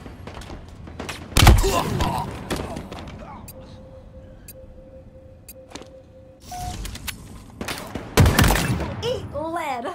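Bursts of gunfire from the video game Halo Infinite, in a ranked tactical match, crack out loudly twice, near the start and near the end, with quieter game sounds and a faint voice in between.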